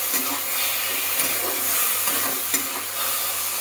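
Spicy taro stolon curry seasoned with Kashmiri chili powder and sugar sizzles in a pan while being stirred. A loud, continuous frying hiss carries soft scraping strokes from the stirring.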